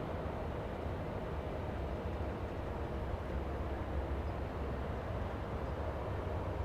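Airbus A380 airliner taxiing at Los Angeles International Airport, a steady low distant engine rumble and roar, continuous and even throughout with no voices.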